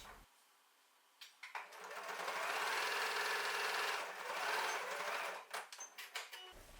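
A sewing machine stitching the opening of a tote bag shut with a narrow seam, starting with a few short bursts, running in a steady quiet whir for several seconds, then stopping in brief stuttering pulses.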